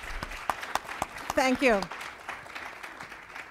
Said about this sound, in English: Let's give one last round of applause for our great panelists.